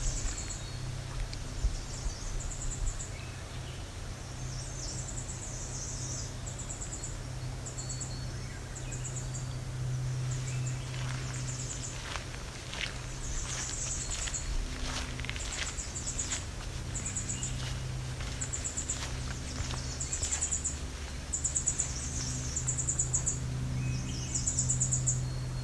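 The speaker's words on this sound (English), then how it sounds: "that's three Swainson's thrush." Two Swainson's thrushes trade repeated high, fluting song phrases at Alvar Bay, fairly distant, over a steady low hum and faint insect-like background noise.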